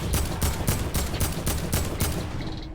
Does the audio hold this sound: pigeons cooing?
no